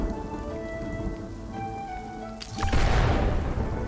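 A thunder and lightning storm in the Spiritfarer video game: steady rain hiss, then a sudden loud crash of thunder that swells and rumbles on through the last second.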